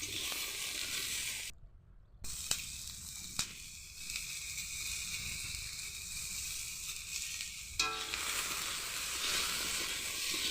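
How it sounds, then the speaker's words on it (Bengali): Potatoes and green chillies fry in a pan with poultry skin, a steady bright hissing sizzle that runs the whole time, with a few clicks of stirring and a short gap early on. "কাঁচা লঙ্কা, কেটে রাখা আলু দিয়ে একটু ভাজা ভাজা করে নেব।"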